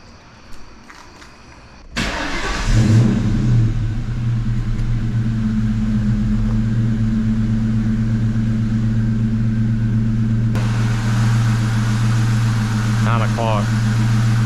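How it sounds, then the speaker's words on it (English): A New Edge Ford Mustang fitted with a new JLT cold air intake cranks and fires after a quiet moment, then settles into a steady, loud, deep idle rumble that runs unbroken to the end. "I'm gonna go ahead and probably try to start the car"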